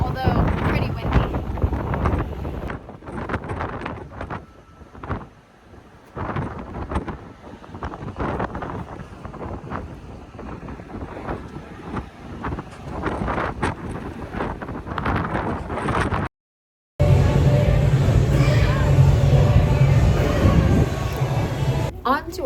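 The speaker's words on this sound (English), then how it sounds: "This is turning out to be a beautiful day at sea, although pretty windy." Strong wind at sea on a cruise ship buffets the microphone in loud, rough gusts, with a brief cutout and a voice speaking faintly amid the roar.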